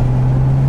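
A 500-horsepower BMW 335i E92 with a turbocharged N54 engine holds a steady, loud, low droning hum for a brief moment, with no clear rise in pitch and no talking.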